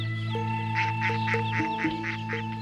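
Mallard ducks in a London city setting give a run of loud, close quacks in rhythmic bursts over a constant background drone, with no talk.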